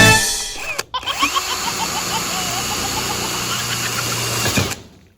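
A Keyang power drill with a worn bit tip drives screws into metal roofing sheet for an awning, giving a loud, close, continuous whirring grind that holds for several seconds and then cuts off sharply.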